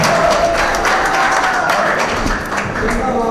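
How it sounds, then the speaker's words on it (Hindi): Audience applause at a Hindi-Urdu poetry mushaira gathering, a dense steady wash of clapping that stays loud for the whole stretch. "ये वादा करके तालियां बजाए"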